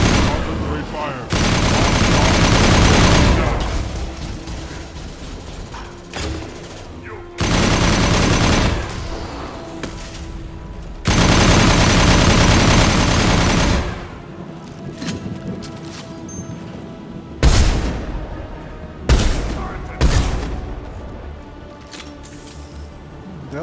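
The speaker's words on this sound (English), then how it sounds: "Artillery fire!" Artillery fire in Mass Effect 2, loud sustained barrages of heavy blasts in several long bursts, separated by shorter quieter gaps with scattered impacts.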